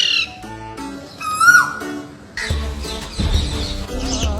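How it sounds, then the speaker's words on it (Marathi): Sparrows, parrots and crows call at a window in Pune, a busy mix of squawks, chirps and tweets that swell and overlap at close range, with no talking. "चिमण्या, पोपट, कावळे त्यांच्या खिडकीत पाणी प्यायला, खाऊ खायला आवर्जून येतात"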